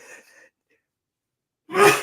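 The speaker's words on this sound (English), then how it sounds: "I'm going to sneeze." A single sharp sneeze bursts out after a short silence, preceded by a faint breathy sound.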